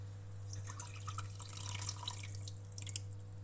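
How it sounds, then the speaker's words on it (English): Water trickling and dripping as lemon, orange and berry lemonade ingredients are rinsed in a pot, soft splashes and drips over a steady low hum, fairly quiet and close. "We rinse everything with a little water to benefit as much as possible from the taste and vitamins of the berries."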